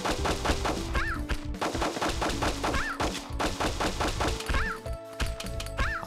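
Gunfire in the video game The Maid and Machine Gun: rapid bursts of shots crackle in quick succession, broken by short pauses and synthetic game tones, loud and close throughout.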